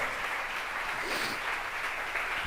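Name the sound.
audience applause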